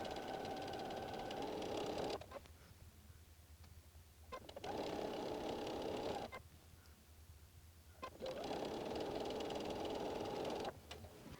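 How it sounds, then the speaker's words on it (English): A sewing machine stitches quarter-inch seam lines on either side of drawn lines on quilt fabric, running in three steady whirring bursts separated by short pauses, close and alone. "sewing a 1/4 inch line on the left and right side of your drawn lines"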